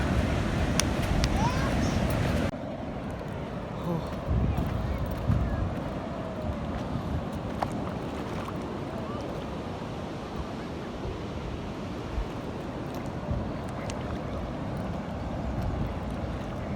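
Surf and gusting wind at Watu Karung beach in Pacitan, a broad, continuous roar of breaking waves with heavy wind buffeting on the microphone throughout.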